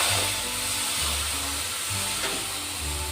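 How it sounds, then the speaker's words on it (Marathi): Milk poured into a hot pan of roasted vermicelli for kheer, a steady hissing sizzle running throughout beneath a faint low hum. "आता हे बघा सकत दूध टाकतोय आपण"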